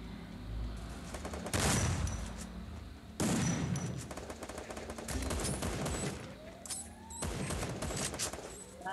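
Gunfire in a Free Fire Clash Squad ranked match: several loud bursts of rapid shots, each burst a sharp volley that trails off, separated by quieter gaps holding scattered single cracks.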